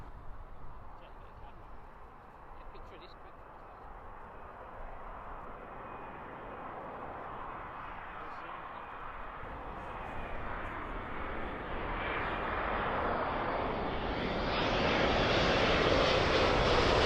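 A Boeing 787-9 jet airliner arriving at London Heathrow on runway 27L, its engine roar swelling steadily from a distant rumble to a loud, close rush, with a person speaking softly underneath.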